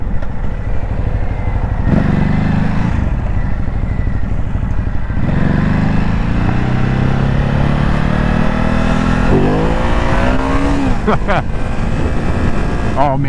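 A 2022 Ducati Hypermotard SP is ridden along a backroad, its engine droning loud and close under wind rush, revving and shifting pitch through several gear changes, with brief sharp sounds near the end.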